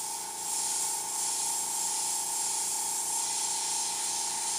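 Airbrush spraying sealer with a continuous, steady hiss and a faint mechanical hum beneath, running without a break from start to finish.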